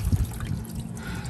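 Water poured from a bottle over raw meat being washed before seasoning for a hotel-room barbecue, a brief soft trickle and splash lasting about a second at close range.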